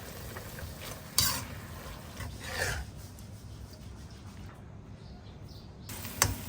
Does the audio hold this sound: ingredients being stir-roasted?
yes